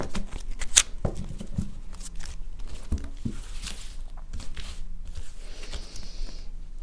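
Tarot cards being shuffled and drawn by hand, a run of soft papery riffles, slides and taps at close range, steady and moderately quiet with no talking.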